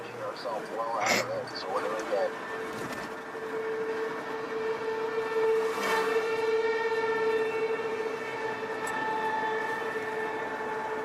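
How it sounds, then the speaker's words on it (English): A steady wailing tornado warning siren drones in the distance while a voice talks over it and a vehicle hums along through town. "driving through this town with the sirens going off too"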